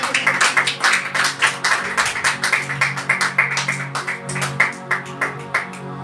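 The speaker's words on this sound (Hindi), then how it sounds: "आए हम जोरदार तालियों में अपने पास से सबको वेलकम करते हैं।" A church congregation claps in welcome, a brisk run of individual hand claps in uneven rhythm, fairly close and loud, with no talk over it.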